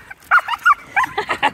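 A dog on a walk gives quick, close yips and barks in an uneven burst, with whiny whimpering notes between them and no people talking.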